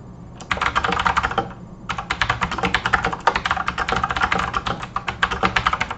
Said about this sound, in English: It's the usual pleasing clack of a good mechanical keyboard.